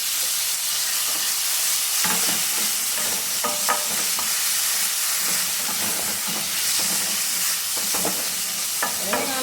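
Onions frying in hot oil for fish saloona, with tomatoes being stirred in. A constant close sizzle and hiss runs throughout, broken by scattered clinks and scrapes of a spoon against the pan.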